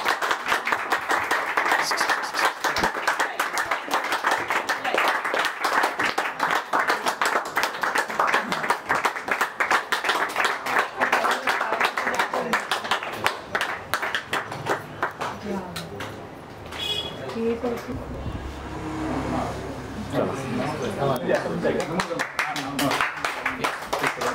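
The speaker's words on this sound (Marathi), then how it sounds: "मुलीचं आगमन होत आहे, तर सर्वांनी एक जोरात टाळ्या वाजवा" Loud clapping from a group welcoming a girl home after her hospital discharge, dense and continuous for about fifteen seconds under chatter, then thinning out as voices and a little music take over.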